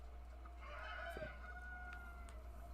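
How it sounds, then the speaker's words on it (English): Chickens cluck and crow in Zelda: Tears of the Kingdom, a few rising calls over a steady low game hum, moderately close and unbroken by talk. "We're very loud with the chickens."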